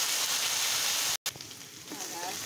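Onion, ginger and garlic paste sizzles in a pan while beef curry is being cooked, a soft steady hiss that drops out briefly midway and then resumes, quieter and uneven.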